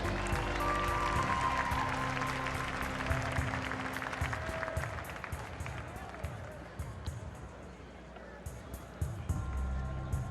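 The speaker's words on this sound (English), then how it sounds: "Let's give them a big round of applause." Audience applause at the 2014 NSAA Class B girls state basketball championship, honoring the Gretna High School girls team in a large arena, sustained broad clapping with crowd noise and an announcer's voice over it.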